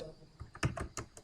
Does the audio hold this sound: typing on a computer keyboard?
yes